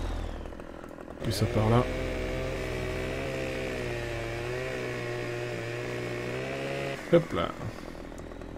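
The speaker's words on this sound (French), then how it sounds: "petit coup de tronçonneuse" A video game chainsaw cutting a tree drones steadily at high revs for several seconds, then cuts out, with brief talk in French before and after.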